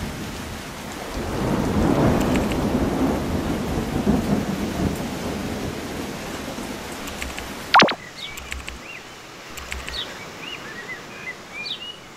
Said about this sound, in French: on voit de la pluie qui est loin. Elle arrive, hein, droit sur nos gueules d'ailleurs.